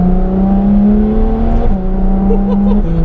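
Ferrari F12 engine at light throttle heard from inside the car, a loud, steady low drone with smooth rising and falling pitch as it cruises, continuous throughout and with no talking.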